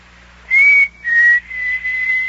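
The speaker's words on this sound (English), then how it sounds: "Did you hear a whistle? Sounded like a signal." A person whistles a signal in an old-time radio drama: three clear, steady whistled notes, each held about half a second with short gaps, loud and close against a quiet background hum.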